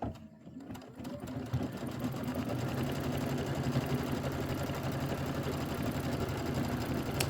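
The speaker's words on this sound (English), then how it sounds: "Let's go ahead and pull that and let it stitch out." A computerized embroidery machine stitches out the quilted border of a Nativity bench pillow, a steady, fast mechanical whir and rapid needle rhythm that runs continuously, close and even, with no talking.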